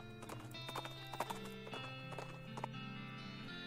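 Horse hooves clip-clop in a quick, even rhythm in the video game West of Loathing, crisp and close over a soft musical bed, with no talking.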